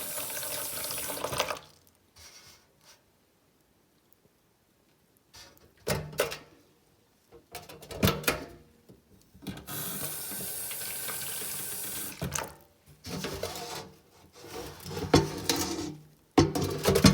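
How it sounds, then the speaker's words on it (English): Water from a tap pours into a bucket in several separate bursts with quiet gaps between them, splashing near and fairly loud, with no talk. "add some water."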